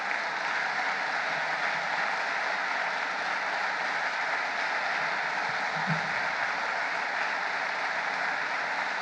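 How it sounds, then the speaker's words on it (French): A large audience at a conference opening applauds steadily and loudly after a speech, a dense, continuous clapping that holds its level throughout without any speech over it. "je voudrais que tous ensemble, en conclusion de ce discours, nous les applaudissions"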